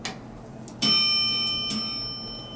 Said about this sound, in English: I absolutely love the mechanical chime.